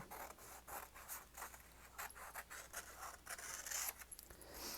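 Scissors snip out paper egg shapes from a craft kit, giving a series of soft, close rubbing cuts with quick paper rustles in a steady, irregular rhythm and no talking.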